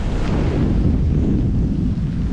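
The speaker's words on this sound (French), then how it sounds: "il y a du vent de ouf" Strong stormy wind buffets the microphone in a dense, roaring rush with low rumbling gusts, loud and continuous at a fishing spot during a dangerous storm, with no speech.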